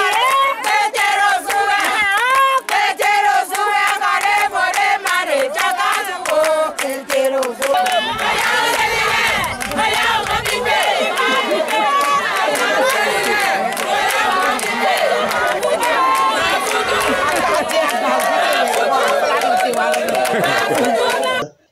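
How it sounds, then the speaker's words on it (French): A large crowd at the Houetanou ceremony in Tori-Bossito sings and chants in dense, continuous, loud voices with rhythmic clapping and shouts, close and busy throughout. "la foule qui attendait ceux qui font les rituels animait avec les chants et danses"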